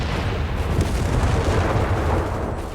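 Heavy rumbling battle noise with booming cannon fire in the World War II strategy game Company of Heroes 3, a dense continuous roar of explosions and shots from Fallschirmjäger and Rifleman combat, loud and unbroken.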